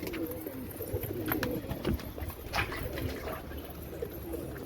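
Pigeons at a rooftop pigeon house softly cooing in a low, continuous murmur, with faint rustling and scattered clicks around them.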